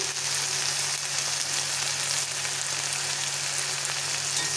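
Okra sizzles in a hot pan with turmeric and salt, a steady close frying hiss with a low hum that runs unbroken throughout, and no voices.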